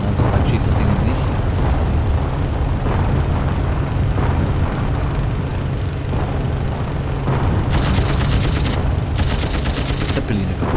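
Rapid bursts of machine-gun fire from a World War I-era plane in the flight game Wings! Remastered Edition, loud and continuous over a droning engine, with sharper bright bursts near the end.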